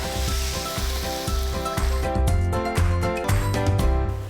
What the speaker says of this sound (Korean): 육수 넣고 이제 끓이겠습니다.